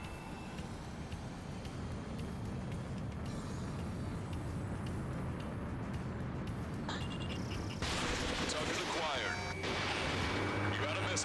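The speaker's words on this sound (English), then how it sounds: "Missiles." Missile launches in the combat flight game Ace Combat 7, loud bursts over a constant roar of jet engine and game effects, with a brighter, harsher blast near the end.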